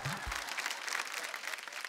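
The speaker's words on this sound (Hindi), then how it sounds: "ठोको ताली गुरु खड़ा है" A studio audience at a Hindi TV comedy show breaks into brief, dense applause, a bright crowd clapping that sustains steadily after a short vocal sound at the start.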